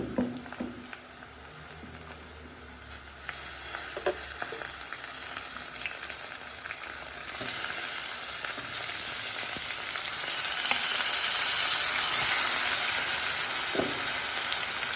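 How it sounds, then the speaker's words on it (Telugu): Washed fish pieces fry in oil for a fish curry, making a steady sizzle that grows louder and fuller over time, with occasional light clicks and no talking. "ఇప్పుడు దీంట్లో కడిగి పెట్టుకున్న చేప ముక్కలు అయితే వేసుకున్నామండి"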